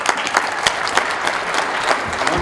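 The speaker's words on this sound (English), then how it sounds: "Give him a round of applause, yeah?" A crowd applauds at a Black History event in Hastings as a performer comes up, with dense clapping and a few sharper individual claps standing out.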